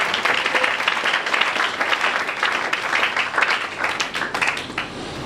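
Applause at a church service, a steady, dense burst of many hands clapping that holds at an even loudness for the whole stretch without pause.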